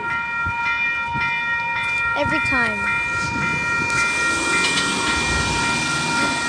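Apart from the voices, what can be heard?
high-speed passenger train passing platform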